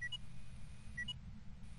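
Two short, high electronic beeps, about a second apart, ring out over a steady low hum in the ghost-hunting video game Phasmophobia; no one speaks.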